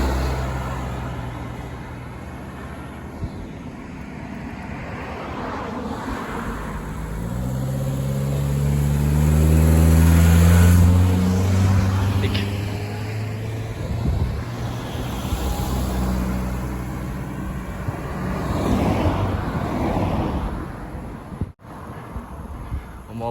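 Cars and vehicles roar past on a climbing mountain road en route to Fire Mountain, a broad engine swell peaking midway over steady wind buffeting the microphone.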